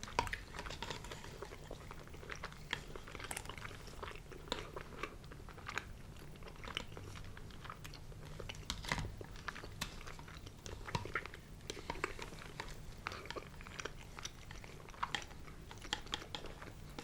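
Close, crunchy chewing and biting of a Bangkok salad, a steady run of wet crisp bites and mouth sounds with no talking.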